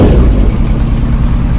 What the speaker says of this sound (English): But the bike runs great. Really solid.